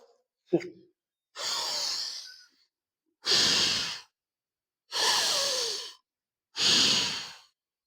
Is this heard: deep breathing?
yes